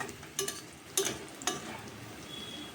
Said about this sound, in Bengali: তো পেঁয়াজটা আগে ভাজা ভাজা হোক, তারপরে আমি আসছি।